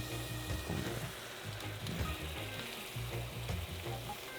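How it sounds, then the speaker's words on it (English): Steady loud sizzling of goat meat frying in a hot pan, a continuous crackling hiss with faint stirring, no voices. "It's such a primal thing hearing meat just sizzling on something."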